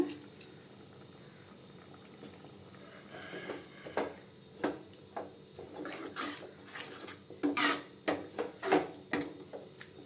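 Spinach and lentil stew (paruppu keerai koottu) stirred in a pot, giving soft irregular spoon scrapes and light metallic clinks, growing louder and more frequent toward the end, with faint bubbling underneath and no talking.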